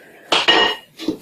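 A metal lid set onto a cooking pot of three-can curry in a home kitchen, giving two close clanking knocks in quick succession, then a lighter clink a moment later.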